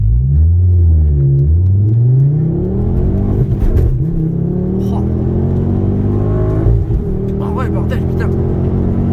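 A Ford Focus RS with a stainless steel exhaust accelerates hard on a race track, its engine note climbing through the revs with gear changes, loud and close, with a deep rumble and a rising pitch.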